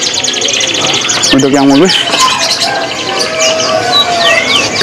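Black-naped oriole (kepudang) calls at a busy bird market, with a clear warbling whistle rising above dense chirping from many other caged birds while people talk nearby.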